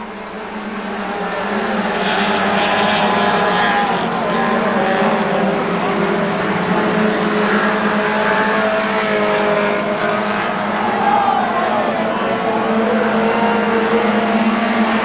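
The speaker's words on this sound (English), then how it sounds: "Green flag racing once again in the mini stocks final, and 501 Glyn Aspin leads them away" Mini stock cars race around a short oval at the 1993 Crewe meeting, a pack of engines roaring continuously near and loud, rising and falling as they lap, with crowd noise beneath and no clear speech.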